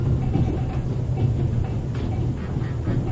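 Train passing in The Raven video game, a steady low rumble with faint rail clatter running loud and continuous throughout, with no talk over it.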